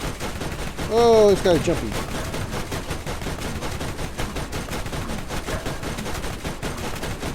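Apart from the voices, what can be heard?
gunfire from weapons in video game Borderlands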